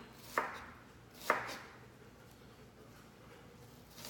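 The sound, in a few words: chopping food with a knife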